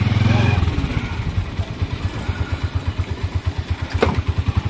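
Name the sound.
motorized tricycle engine during a night ride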